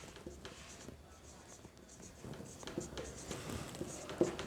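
Marker or chalk writing a single word on a classroom board during an English lesson, a soft scratchy stroking heard fairly close over quiet room noise, with faint voices in the background.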